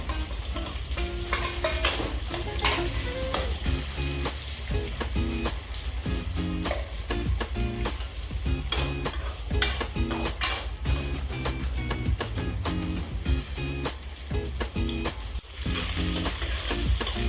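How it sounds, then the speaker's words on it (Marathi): Onion sautéing in a pan with garlic and ginger for paneer chilli, a steady loud sizzle and frying hiss with repeated stirring scrapes throughout, no talking. "हे बघा, असं कांदा आपण परतून घेऊया।"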